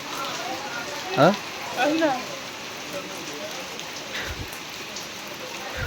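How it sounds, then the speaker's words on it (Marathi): Steady rain pours down at a hillside fort-temple pilgrimage site, a broad continuous hiss throughout, with a few brief voices and shouts breaking through early on. "आणि आता पाऊस चालू झालेला आहे चांगलाच."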